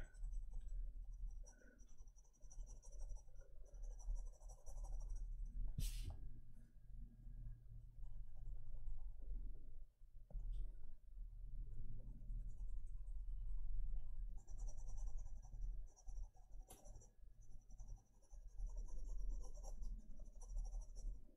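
Polychromos colored pencil moving across paper in steady, soft scratching strokes, close and quiet, with brief pauses between passes and no talk.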